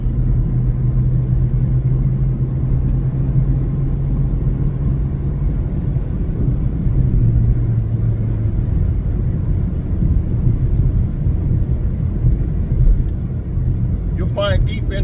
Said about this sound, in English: Wow, this bus is going fast.